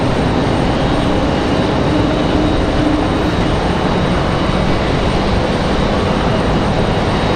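Airbus A220 airliner jet engines roar as a loud, steady, broadband rumble at Raleigh-Durham International Airport, unbroken for several seconds with no voices.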